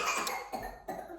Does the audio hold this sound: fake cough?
yes